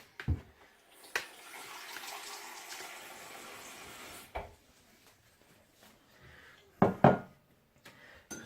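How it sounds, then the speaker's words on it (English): Hot water runs from a kitchen tap into a bowl for about four seconds, a steady close hiss and splash, followed by a few clinks and knocks as the bowl is handled. "I'm actually going to get a bowl of hot water."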